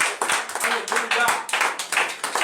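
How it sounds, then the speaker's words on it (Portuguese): A church congregation claps together at an evening worship service, a brisk rhythmic run of hand claps close by, with a voice speaking over it. "Você pode dar um aplauso ao Senhor nessa noite?"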